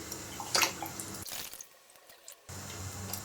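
A whole chicken is dunked into cold water for Cantonese white sliced chicken. Water splashes and trickles up close, goes quiet for about a second, then the running-water sound picks up again. No one speaks.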